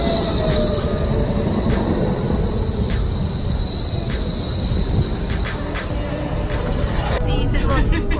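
Light rail train in Berlin riding along, a steady loud rumble of wheels and carriage with faint squeals, heard from inside the car with occasional speech-like noise over the continuous ride.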